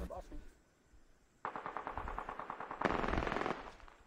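Video game gunfire: a quiet lull, then rapid automatic bursts of machine-gun fire rattling for several seconds, growing louder and denser toward the end, with no speech over it.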